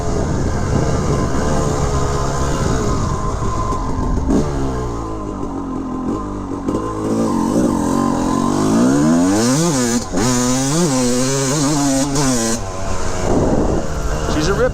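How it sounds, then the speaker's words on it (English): A 1988 Honda CR250R two-stroke dirt bike running close by, idling then revving up and down in repeated rising and falling sweeps, loud and raspy, with a brief lull midway. "Crisp running bike, typical Honda quality."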